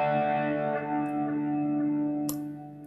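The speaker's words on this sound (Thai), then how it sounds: "เจ้าตัวนี้เวลาเปลี่ยนแบงค์เนี่ยเสียงสมูทมากๆครับไปลองเปลี่ยนแบงค์ให้ดู" Sustained electric guitar chord through a Ventris Dual Reverb pedal as the bank is switched, the smooth reverb wash holding steady and then tailing off, with a brief click near the end.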